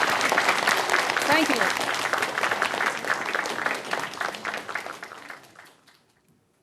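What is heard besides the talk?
audience applause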